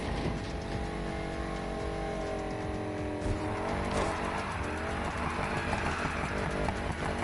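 Supercharged car drifting in a racing game, engine revving hard with wheel spin and sustained tire squeal, loud and continuous, pitch rising and shifting through the slide.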